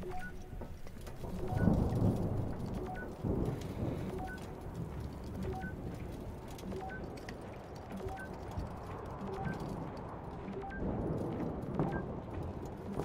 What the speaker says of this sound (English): Some very nice sounds with the storms.